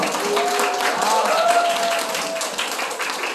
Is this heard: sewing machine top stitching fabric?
no